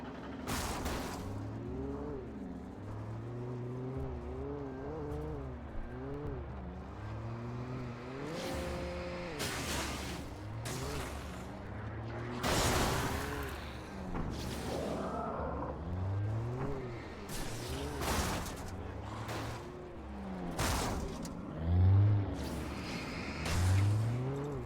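A car driven in the video game Alan Wake, its engine revving and rising and falling in pitch through repeated acceleration, with occasional sharp bursts and rumbles, heard alone without speech.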